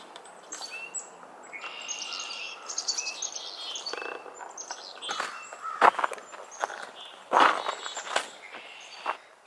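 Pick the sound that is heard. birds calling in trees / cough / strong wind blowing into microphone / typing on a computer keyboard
birds calling in trees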